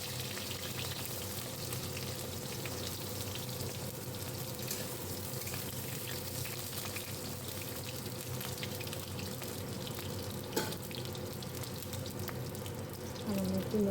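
Eggplant slices fry in oil with salt and turmeric, a soft, continuous sizzle that holds steady throughout, with a small clink near the end.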